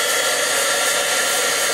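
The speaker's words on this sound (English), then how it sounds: "I'm going to take my heat gun and heat those." A handheld heat gun drying white pigment ink for stamping blows a steady, loud, even whoosh of hot air with no breaks, heard alone and close.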